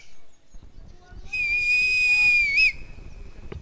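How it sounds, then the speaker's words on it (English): A shrill whistle sounds from the crowd at a cricket match in KSCA Stadium, Bengaluru, one sustained piercing blast of about a second and a half that ends with a short warble, heard over faint crowd murmur. "You could hear that whistle."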